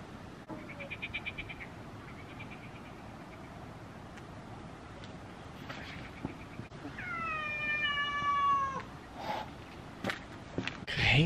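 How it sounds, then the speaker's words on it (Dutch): Cats meow at night in a Dutch countryside setting, a drawn-out wavering meow near the end rising over a steady hum, with earlier faint calls and scattered small thuds. "Hier zijn allemaal katten."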